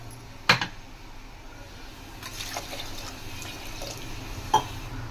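About one and a half glasses of water pour steadily into a pot of cucumber pulusu curry, a soft continuous splash with a couple of sharper clinks, and no talking.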